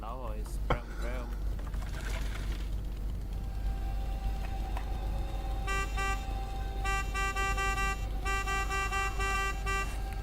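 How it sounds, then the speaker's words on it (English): A vehicle in the video game 7 Days to Die honks its horn in repeated bursts over a steady engine rumble, with a voice talking early on. "With a honk honk and a brum brum."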